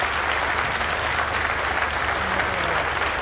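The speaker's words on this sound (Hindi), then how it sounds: "जोरदार तालियों से गूंज उठनी चाहिए" Steady, loud audience applause fills the hall at a defence exhibition event, continuous clapping from a large crowd with no break throughout.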